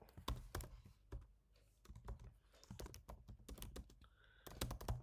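Typing a command on a computer keyboard: a close, steady run of crisp key clicks and clacks with brief pauses between bursts. No voices are heard.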